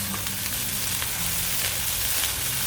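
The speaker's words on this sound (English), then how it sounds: "So, now, in with the prawns. A little stir up." Prawns hiss and crackle steadily in a hot pan while being stirred for a prawn rice dish, a dense close-up sizzle with low scraping rumble underneath and no voices.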